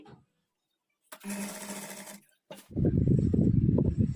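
A sewing machine stitches lehenga lining in two bursts: a steady whirring run, a short pause, then a louder, heavier run that continues to the end.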